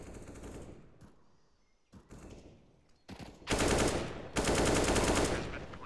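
AK rifle fire in Counter-Strike: Global Offensive during a competitive match, scattered single shots giving way to loud sustained automatic bursts, close and dominant toward the end.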